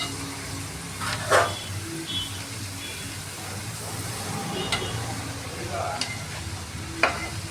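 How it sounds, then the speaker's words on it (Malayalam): A big batch of green bean stir-fry with gravy is stirred in a pan, with a soft steady sizzle and occasional scraping strokes of the spoon, close and moderate. "നല്ലോണം ഒന്ന് ഇളക്കി അടിയിലുള്ള ആ ഗ്രേവി എല്ലാം പുറമെ നല്ലോണം ഒന്ന് മിക്സ് ചെയ്യണം"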